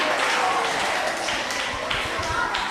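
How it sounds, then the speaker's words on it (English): A school contest audience clapping for a team at the end of a round, a dense, steady patter of many hands, fairly loud and close. "Please, let's clap for them."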